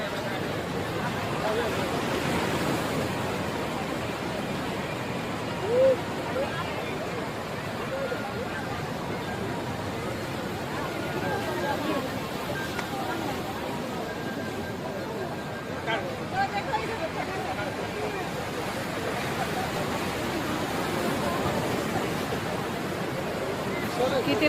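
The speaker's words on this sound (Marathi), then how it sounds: "रात्रीचा वेळ आहे तरी बघा भराभर लाटा येत आहे समुद्रामधनं" Sea waves break at night on the shore at Kanyakumari, making a steady, dense wash of surf that fills the whole stretch, with a crowd murmuring in the background.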